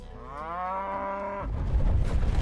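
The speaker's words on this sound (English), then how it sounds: "The cows are stampeding in." Cattle in the video game Arknights give a single loud, drawn-out moo, followed by a rumbling low thunder of hooves as the herd stampedes in close.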